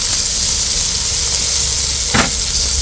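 Steak browns in oil in a camp oven, a steady loud hiss and sizzle throughout, with one brief sharper burst near the end.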